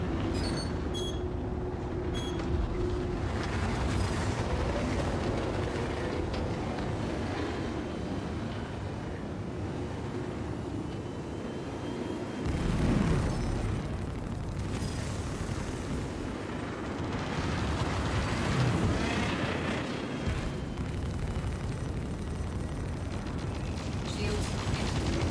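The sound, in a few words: missiles firing and exploding in a video game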